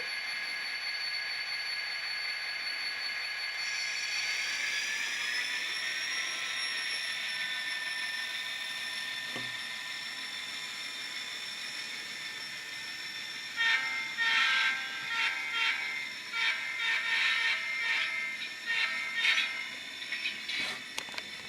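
Atlas model locomotives in Santa Fe livery circle a track, with a steady electric whine and hum, a rising motor pitch, then a run of rapid clicking rail-joint rattles nearer the end.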